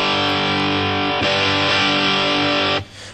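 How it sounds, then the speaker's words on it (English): A heavily overdriven electric guitar through a Boss DS-1 distortion pedal rings out in a sustained distorted chord, thick and buzzing, then cuts off abruptly near the end. "start with the overdrive distortion"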